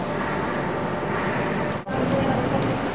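Steady rain falls in a constant dense patter, with a brief cut in the middle before it carries on.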